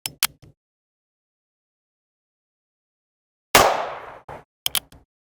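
Heritage Barkeep revolver firing outdoors during chronograph testing, several sharp, loud cracks in separate clusters, one longer report trailing off, with silence between shots.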